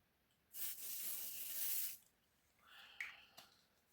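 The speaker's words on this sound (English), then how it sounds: "Face spray." A single soft spray mist hiss lasting over a second, close but quiet, followed by faint light clicks.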